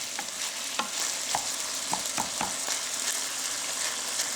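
Homemade pasta sauce simmering and being stirred in a pot, with soft bubbling hiss and a few light scraping clicks from a utensil, steady and close without speech.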